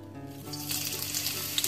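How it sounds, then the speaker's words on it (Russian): Thinly sliced half-rings of onion sizzling in oil in a wok, a steady close crackle and hiss that swells partway through and keeps going with no talk. "Обжариваю все это в глубокой сковороде."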